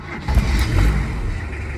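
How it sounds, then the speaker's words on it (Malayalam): A Hindustan Contessa Classic engine is cranked by its self-starter and catches, a brief close burst of low mechanical turning that settles into a running rumble. "ഇനിയിപ്പോൾ നമ്മൾ വണ്ടി നേരെ സെൽഫ് അടിച്ച് സ്റ്റാർട്ട് ചെയ്യുവാണ്."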